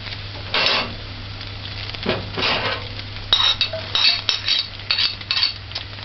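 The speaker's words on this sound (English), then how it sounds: "I like my onions sauteed. I'm gonna allow it to caramel more." Onions sautéing in a pan while being stirred, with a low sizzle under repeated scraping and clinking of a utensil against the pan, bursts coming in irregular clusters, close and fairly loud.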